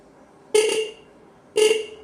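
Roots vibrosonic horn wired to a UPS battery gives two loud, close blasts about a second apart, each a short bright toot that stops sharply, with quiet between.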